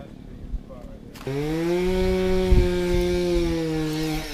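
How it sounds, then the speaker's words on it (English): A chainsaw drones loudly and steadily after starting up abruptly, with a brief knock or thump partway through. "you can probably barely hear me because of the chainsaw"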